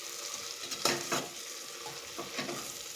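Nilanga rice being mixed with spices in a hot pan, a continuous sizzle broken by a few scraping stirs of a utensil through the rice, with no voice over it.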